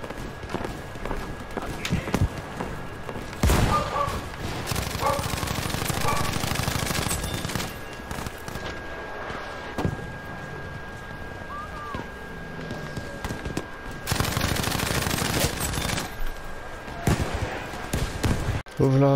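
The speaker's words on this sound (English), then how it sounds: "Moving on to the M1922 MG." Bursts from an M1922 MG machine gun in Battlefield V, rapid sustained volleys alternating with quieter gaps and running footsteps, with a voice talking over parts of it.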